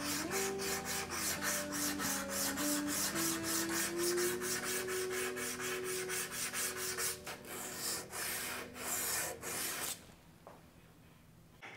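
Hand sanding rounds over the edges of a wooden bookcase, rapid back-and-forth rasping strokes in a steady rhythm, close and loud, slowing and then stopping near the end.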